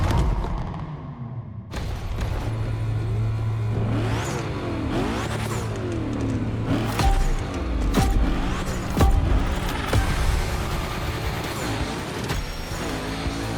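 Cars rev and drift around a gymkhana course in The Crew Motorfest, with engines roaring and whining through gear changes, tires squealing and skidding, and loud, continuous motor noise layered with sharp bursts throughout.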